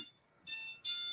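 A house alarm sounding indoors, a thin, high electronic tone that starts faintly, drops out, then returns in louder steady pulses, with no talk over it.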